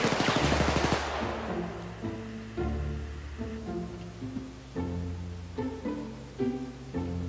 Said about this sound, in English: when you hit him, his gun just went off when he died